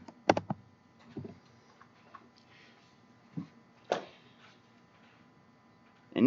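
A few sparse keystrokes tapped on a computer keyboard while entering a Stata command, soft clicks in small clusters with quiet gaps between.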